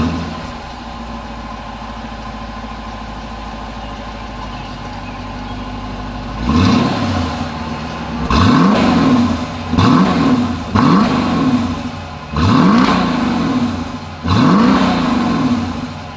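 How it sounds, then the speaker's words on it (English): A 2020 Dodge Durango SUV idles with a low steady exhaust note, then its engine is revved repeatedly in five or six loud, sharp bursts that rise and fall, recorded close to the exhaust outlets. "As always, here is that exhaust clip."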